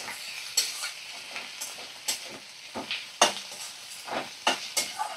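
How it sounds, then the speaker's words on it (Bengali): Cumin paste stirred in a pan over a low flame, a soft sizzle broken by a steady run of sharp spoon-on-metal scrapes and clinks every half second or so, close up with no voices. "ভালো করে দেখো আমি নাড়াচাড়া করে নিচ্ছি"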